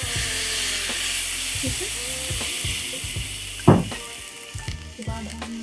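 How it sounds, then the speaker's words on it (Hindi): Soy sauce hits a hot pan while making creamy garlic pasta, giving a steady loud sizzle with a sudden burst of spitting as the liquid lands, then stirring scrapes; a brief spoken remark is heard. "इसमें सोया सॉस डालेंगे, जस्ट अ क्विक स्प्लैश"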